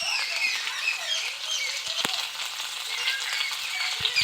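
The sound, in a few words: sautéing spices in pan for fish curry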